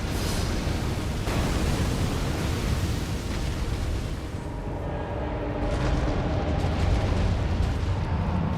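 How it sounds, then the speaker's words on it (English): Fireballs thrown by the Fire Giant in Elden Ring erupt in a continuous, loud rumbling roar of explosions and fire, a dense, sustained blast of noise with swelling surges and no talk. "you're still susceptible to the fireballs that he throws at you"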